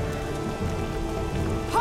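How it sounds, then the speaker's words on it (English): Steady rain pours down in The Witcher 2: Assassins of Kings, a continuous even hiss of falling water on surfaces that holds at a constant level throughout, with no other sounds standing out. "Why is it raining?"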